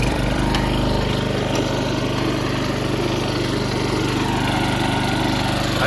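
A small-engine string trimmer, repaired and choked with its idle raised, catches with a brief sputter and then runs on with a loud, steady buzzing drone close by.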